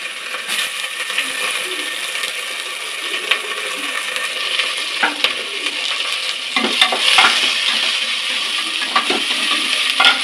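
Onions and green chillies sizzle steadily in a hot pan for tomato rice, with scattered clicks and scrapes as the pieces are stirred. The sizzle is close, and no one speaks.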